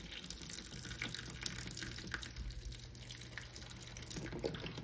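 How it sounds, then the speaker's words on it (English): Stock poured over beans in a pot for a homemade bean soup, a steady continuous liquid splash and trickle running throughout at close range, with no voices. "Pour some in here so I can cover it."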